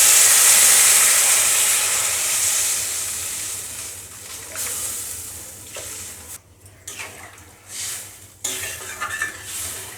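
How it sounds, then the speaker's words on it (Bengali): Water poured into a pan of frying masala with taro (mankochu) for a Bengali katla fish head curry, sizzling and hissing loudly at first, then settling into softer bubbling with stirring clatter. "এখন আমি জল দিয়ে দেবো।"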